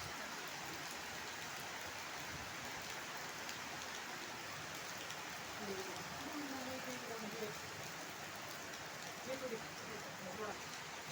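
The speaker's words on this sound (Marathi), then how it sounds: "जोरात असा पाऊस सुरू झालेला आहे." Heavy rain pours steadily in the Konkan countryside, a dense, even hiss with faint bird calls woven through it and no voices heard.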